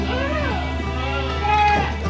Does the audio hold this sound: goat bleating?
yes